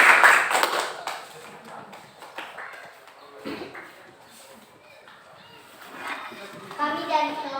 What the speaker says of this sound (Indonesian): Tepuk tangan buat Tasya dulu.